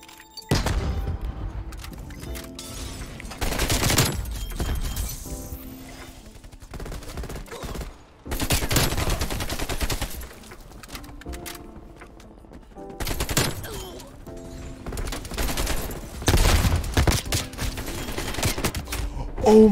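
Rapid automatic AK-47 fire in the Black Ops Cold War video game comes in several loud sustained bursts separated by short pauses.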